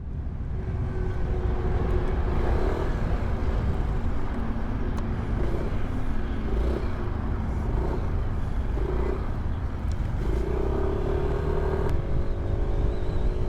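A Yamaha Aerox 155 scooter in STD and ABS versions, ridden and accelerating, its engine holding a steady drone with some wind noise over it the whole way through, and no talking.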